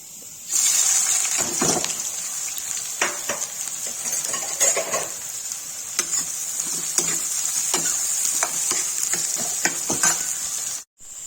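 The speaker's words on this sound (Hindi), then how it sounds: "यहाँ तेल गरम हो गया, इससे प्याज डालती हूँ" Chopped onions hit hot oil in a pan for paneer bhurji, setting off a steady, close hiss with stirring scrapes all the way through, then a brief cut near the end.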